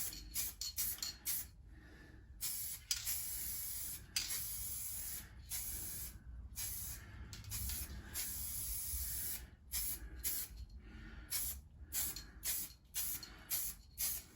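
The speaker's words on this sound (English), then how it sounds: "So now we're going to spray paint all of this." Spray gun applying paint to a Jeep Patriot car body, a steady loud hiss broken into repeated bursts of varying length with short pauses between passes, close and continuous with no talking.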